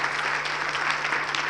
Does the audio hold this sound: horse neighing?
no